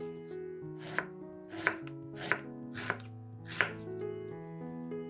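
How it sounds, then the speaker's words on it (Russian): Two eggplants being chopped into pieces with a knife: five sharp, evenly spaced chops on a board, close and clear, alone over a soft steady background. "2 баклажана тоже нарезаем кусочками."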